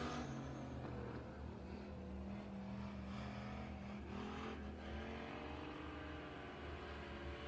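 Factory stock cars and sportmods roar around a dirt oval during time trials at Kennedale, a continuous distant engine drone with pitch shifting as a car circles the track, faint and without talk.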